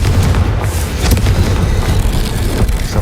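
A Confringo fire-blast spell explodes in Hogwarts Legacy, a loud, dense boom with a sharp burst near the start and a rumbling roar that carries on for about three seconds.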